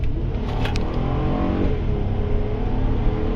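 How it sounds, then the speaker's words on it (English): A car engine pulls under hard, roughly three-quarter throttle acceleration, a loud continuous droning roar with rising harmonic tones from inside the cabin, no talking. "hard acceleration. I mean, it wasn't full throttle, but it was, probably 7/10 of a throttle."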